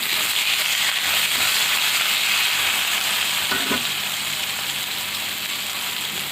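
Chopped onion fries in hot oil with whole cumin seeds, giving a loud, steady close-up sizzle throughout with one brief stir partway through and no talk.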